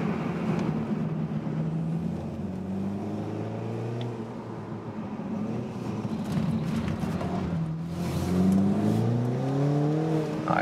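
A rear-wheel-drive BMW Z4 roadster accelerates out of a corner with slight oversteer, its engine note climbing in rising sweeps that dip and then surge louder near the end, close and steady.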